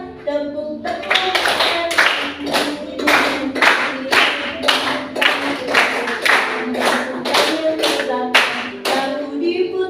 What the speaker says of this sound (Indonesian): bergembira, hati jadi riang, tepuk tangan.